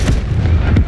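An explosive charge goes off in the video game Call of Duty: Modern Warfare, a loud booming blast with rumbling, crackling echoes packed into about a second.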